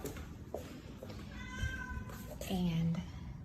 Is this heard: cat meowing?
yes